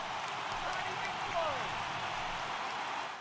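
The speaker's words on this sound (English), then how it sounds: "It's raining cats and dogs out there." Heavy rain in the baseball video game MLB The Show 18 falls as a steady, dense hiss across the whole stretch, with a faint brief whistling tone rising in the middle and no clear speech.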